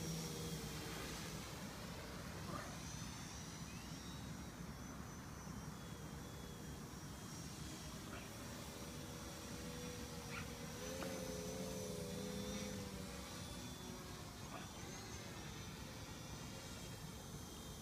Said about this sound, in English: Tony flying my FPV550